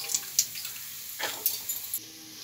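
Soaked, softened soybean dal is lifted out of its water with a strainer, giving brief splashy trickles and drips with a couple of sharper wet clinks.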